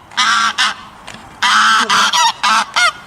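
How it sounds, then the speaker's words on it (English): A goose honks repeatedly in loud, close bursts, a string of harsh nasal calls with short pauses between them and no other voices. "Goose."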